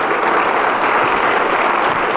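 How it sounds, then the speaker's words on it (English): A packed DEF CON hacking conference crowd applauds loudly and steadily, the thick continuous clapping filling the whole moment with no voices over it. "round of applause to Relic"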